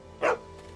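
A dog in The Walking Dead Season 2 video game gives a single short, sharp bark, loud and close, set against a quiet low background hum.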